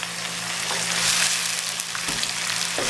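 Onions browned to light brown frying in a pan with garlic-ginger paste added, a steady close sizzle with faint stirring scrapes throughout and no talk.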